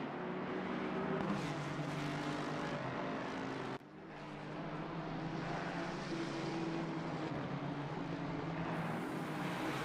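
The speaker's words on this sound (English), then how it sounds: "in one such fight, Angeletta v McKay, Aston Martin and Ford head-to-head here" Aston Martin and Ford race cars at Imola roar in a sustained, loud engine drone, briefly dipping before building again as they run head-to-head on track.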